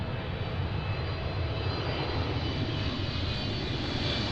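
Steady, loud roar of a Boeing 777-300ER airliner's engines at an airport arrival, a continuous broadband rumble holding even throughout with no talk.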